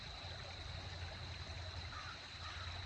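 Soft, steady wash of creek water flowing at a dig site, a continuous faint burble heard on its own with no voices.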